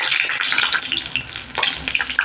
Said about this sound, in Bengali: এবার বড়াটাকে আমি একটু উল্টে দিচ্ছি যাতে ওই পিঠটা ভালোভাবে ভাজা হয়।